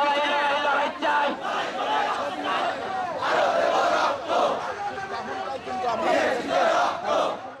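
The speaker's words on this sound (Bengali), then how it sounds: "কাফনের কাপড় জড়িয়ে রাজধানীর ৭ রাস্তা মোড় এলাকায় বিক্ষোভ মিছিল করেছে" Polytechnic students wrapped in shrouds march through a Dhaka street intersection, a large crowd chanting slogans in loud, rhythmic call-and-response waves that carry on without a break.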